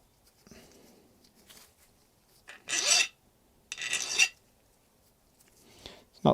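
Metal file rasping across the worn flats of a track rod end nut on a 2007 Ford Ranger 2.5 diesel, two firm strokes of about a second each, close and clear, with faint handling noises between and no talk.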